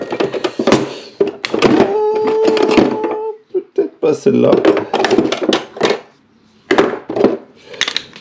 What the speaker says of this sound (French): Désolé pour le bruit, je cherche ma pince à clips.